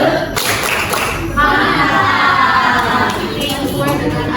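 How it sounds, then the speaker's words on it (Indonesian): A classroom of students does a rhythmic 'tepuk salut' group clap, a loud, dense burst of many hands with some shouting and a few thumps, filling the room near and continuous. "Kita tepuk salut lagi, ya. Tepuk salut."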